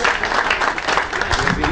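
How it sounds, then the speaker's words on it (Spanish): A crowd applauds a young under-23 cyclist at a stage race event, with dense continuous clapping ringing out loudly for a couple of seconds. "Un aplauso para Gustavito, sub-23"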